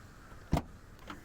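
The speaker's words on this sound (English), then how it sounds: "Opening the tailgate of the Venue SX" The tailgate of a 2022 Hyundai Venue facelift SX opens with one short, close latch clunk, followed by a faint softer click, against quiet background hum.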